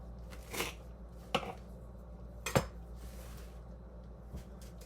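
A knife chops ingredients for Moroccan harira soup into large pieces, giving a few sharp, separate taps on a board spread across the moment, close and moderately loud, with no talk.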